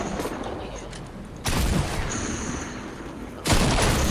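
Gunfire in the video game Fortnite, two loud bursts of rapid shots a couple of seconds apart over steady game ambience.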